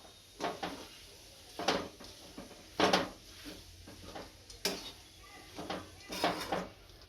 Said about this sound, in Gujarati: આસ્તે આસ્તે બધું ભેળવી નાખશું